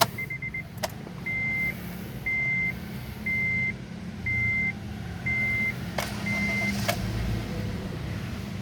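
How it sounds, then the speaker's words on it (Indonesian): A 2019 Honda Brio Satya 1.2E idles with a steady low hum after starting, while a row of evenly spaced electronic warning beeps repeats over it with the door open. "Nah, ini suara mesinnya ya."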